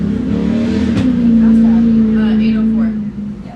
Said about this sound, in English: That's Matthew Torney coming through the corners.